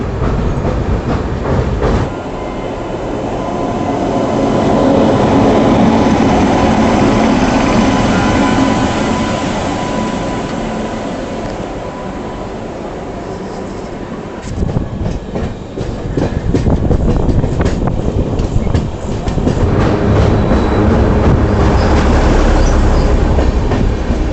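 A passenger train on the Ahmedabad to Delhi route hauled by a WP7 electric locomotive from the Kanpur shed, heard as a loud, close, continuous roar of running wheels with steady clickety-clack from the rails and no voices.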